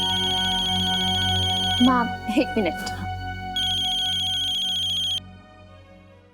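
An electronic telephone ringtone trills in a home, two loud bursts of rapid repeating tones separated by a short gap, while someone speaks briefly between them.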